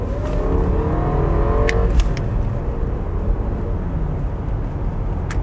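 A first-series Lexus 1UZ V8 in a thirty-year-old Lexus accelerates hard, giving a smooth, even, loud engine roar that holds steady throughout, with a couple of brief clicks early on.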